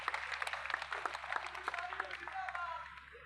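A crowd at an international circus gives quiet, distant applause for its performers, with scattered claps that fade toward the end while a voice talks over them.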